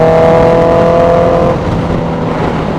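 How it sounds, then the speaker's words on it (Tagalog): Honda CB650R with an Austin Racing full exhaust system idling and revving nearby, a loud steady tonal drone that eases slightly partway through. "Ang lakas ng full system. Naka full system pala to na Austin Racing Arbon"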